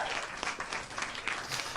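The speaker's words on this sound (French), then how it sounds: "Vous voyez que toute la foule applaudit en face de vous." A street theatre audience applauds the performers, a dense steady wash of many hands clapping at middle distance, sustained and even throughout with no voices standing out.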